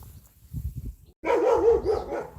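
Dogs at home bark and whine nearby, first a few soft low woofs, then a louder sustained yelping whine close to the microphone.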